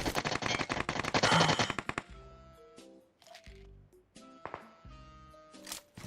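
Rapid automatic gunfire from PUBG Mobile rattles in a dense close burst, then gives way to sparse separate shots over a steady tonal background.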